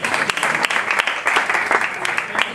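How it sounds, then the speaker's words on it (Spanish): Audience applause for a colleague at a university open day talk, a steady dense patter of many hands clapping at close range with a few voices mixed in, lasting a couple of seconds. "aplauso al compañero"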